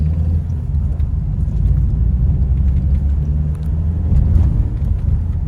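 An Audi car driving produces a steady low rumble of engine and road noise with gentle surges in level and no voices.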